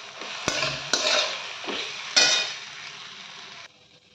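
Poha being stirred and mixed in a pan, close scraping strokes over a steady sizzle with a few sharp clinks of utensil on metal, fading near the end, with no talking.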